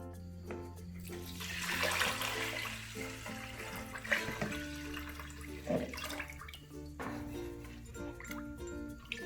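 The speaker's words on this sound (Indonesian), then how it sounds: "Masukkan beras yang sudah dicuci. Tambahkan airnya." Water pours into a rice cooker pot over washed rice for making lontong, a soft continuous splashing and gurgling that swells and eases, heard fairly quietly and close.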